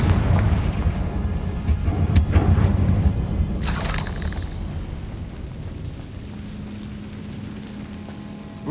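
Confringo fire spell blast in Hogwarts Legacy: a deep, rumbling explosion with crackling bursts, settling into a low steady drone that fades near the end.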